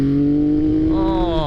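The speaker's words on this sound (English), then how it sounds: "Oh, what a lovely engine it is." A Triumph Speed Triple motorcycle's engine revs up close and loud, holding a steady idle-like drone before the pitch climbs sharply near the end, a single rising rev.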